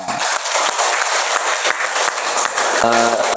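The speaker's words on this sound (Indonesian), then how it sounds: "Tepuk tangan untuk kita semua." Applause from everyone in a classroom at the close of a morning lesson, a dense steady clatter of many hands lasting throughout, with a brief tonal beep near the end.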